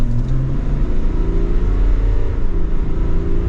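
A 2023 Chevrolet Tahoe RST SUV with the Duramax diesel engine accelerates, a loud, steady low engine drone and rumble heard from inside the cabin with no talking.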